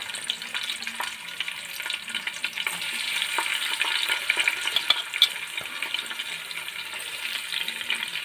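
Chopped onions fry in a little oil with cumin seeds in a pan for a home-cooked breakfast, giving a steady crackling sizzle with occasional stirring clicks and scrapes, close and moderately loud.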